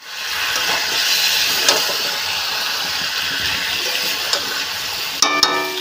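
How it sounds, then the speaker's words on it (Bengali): Chicken pieces frying in a pan give a steady, loud sizzle and hiss for the whole stretch, with a few soft stirring knocks near the end and no talk. "এখন মাংসটা কষাচ্ছি।"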